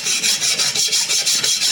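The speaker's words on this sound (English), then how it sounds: "Just rub them down with some wet and dry" Metal parts being rubbed down by hand with wet and dry sandpaper, a loud close rasping scrub in a steady back-and-forth rhythm of about seven strokes.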